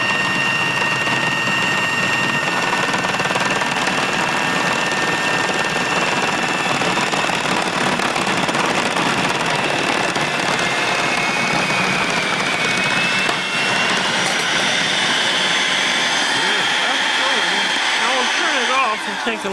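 An electric mixer beats yeast dough at full speed. A loud, steady motor whine runs without a break for about twenty seconds, with faint voices underneath.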